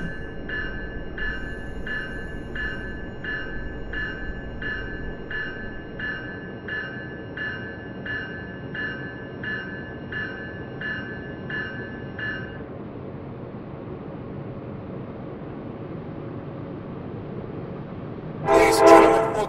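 A steady, low rumble of a Tri-Rail passenger train rolling on rails between Pompano Beach and Deerfield Beach. A repeating electronic chime plays for the first part, and a brief louder clatter comes near the end.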